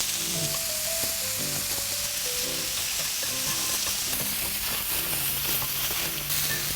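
Deodeok root pieces, pre-coated with oil and seasoning, sizzling on a hot pan over medium heat with no added oil underneath, a steady close crackle with occasional stirring.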